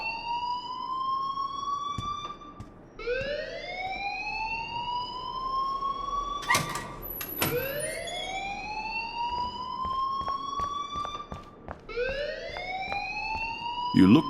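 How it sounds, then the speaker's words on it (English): In the video game Life is Strange, a fire alarm siren wails in repeated rising sweeps, each lasting a few seconds. It continues throughout, and sharp clicks and a raised game voice break in over it. "please turn off that alarm since that's your job"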